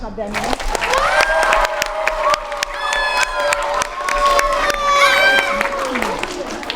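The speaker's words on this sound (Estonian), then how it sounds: "Tema jaoks siis suur aplaus." An audience at a children's playback singing show for grades one to four applauds as the jury chair is introduced. Loud, continuous clapping mixes with high-pitched cheers and shouts from the crowd throughout.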